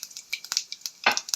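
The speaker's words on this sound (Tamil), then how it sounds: "கடுகு பிடி வெடித்த உடனே பெருஞ்சீரகம், கொஞ்சம் பெருஞ்சீரகம் பொரிக்குது" Mustard and fennel seeds splutter and pop in hot oil in a pan, a quick series of sharp crackles and small bursts heard close up with no talk.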